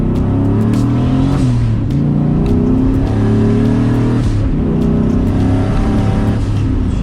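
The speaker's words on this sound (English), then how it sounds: "We'll try a second gear pull." A turbocharged New Edge Mustang pulls hard in second gear, its engine note loud and close and rising steadily in pitch over several seconds, with a constant roar and no talking.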